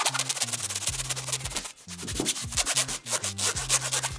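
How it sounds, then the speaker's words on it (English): Scratchy rubbing of a black carbon fiber everyday carry item, loud close-up rasping strokes in quick repeated bursts, heard alone with no speech. "That black carbon fiber. Can you hear that? Can you hear the scratchiness?"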